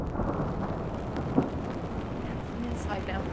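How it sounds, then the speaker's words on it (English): Added rain and thunder effects build a dense storm soundscape of continuous heavy rain with a low rumbling undertone and one brief crack partway through. "I added some rain effects in post-production and created this soundscape"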